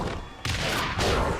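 A grenade blast in the Resident Evil: Dead Aim shooter, a sudden loud burst that cuts in partway through and rolls into a sustained, crackling roar, with a second surge of noise near the end.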